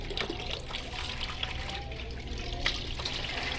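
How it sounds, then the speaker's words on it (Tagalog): Dishes are washed under running water, a soft, close trickle and splash with small clinks and surges over a few seconds, with no talking. "Hugas ng plato"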